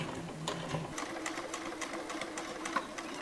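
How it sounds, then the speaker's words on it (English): Sewing machine back stitching over the handle of a fabric bottle carrier, a steady close mechanical whirr with light rapid ticking running throughout. "I'm going to back stitch over the handle."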